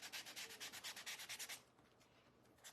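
Rapid back-and-forth strokes of sandpaper rubbing across a wooden Americana spindle craft sign, a dozen even rhythmic passes up close, then the scraping stops and only faint room quiet remains.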